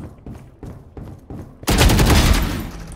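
Phantom rifle fire in the video game Valorant: several quick separated shots, then a loud sustained burst of rapid automatic gunfire, close and dominant.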